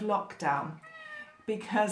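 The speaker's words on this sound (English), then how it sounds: "the cat's in the room" A house cat meows in a room, one drawn-out clear meow between bursts of someone talking nearby.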